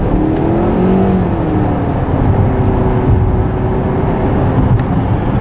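A Honda CR-V Hybrid engine roars steadily and loudly as the car accelerates on the road, a continuous droning whine with shifting tones and no speech over it.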